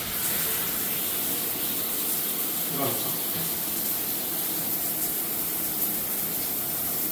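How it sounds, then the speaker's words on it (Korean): Water sprays steadily from a shower head in a continuous hiss, close by and unbroken throughout. "누른 상태에서 이걸 올리면 이렇게 물이 나옵니다."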